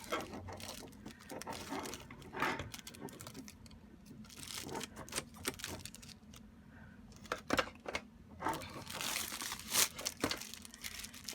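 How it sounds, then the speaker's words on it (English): Scissors cutting plastic wrapping off Movo VGC-3 and VXR10 packaging, with crinkling, snipping and tearing noises at close range, irregular bursts over a quiet background without talk. "Let me just grab a scissor real quick so I can cut this, at least get it started cutting."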